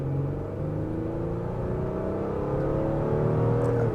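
2025 Honda Pilot Elite accelerating from the cabin, a steady engine drone rising in pitch as revs climb, with no talk over it.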